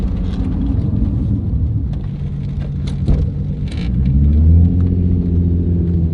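A loud Ford XF Falcon engine, swapped to a Barra, rumbles and then revs up with a manual shift, the pitch climbing as it accelerates on the road, close and continuous with no voices.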